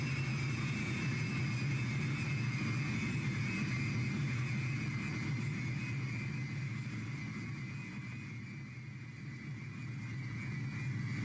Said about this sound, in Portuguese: O avião corre na pista de decolagem sem anormalidades.